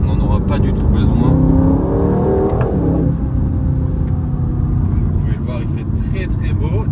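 A 2024 Aston Martin Vantage, rear-wheel drive, drives with a steady deep engine drone and a brief rev shift early on, heard from inside under someone talking throughout.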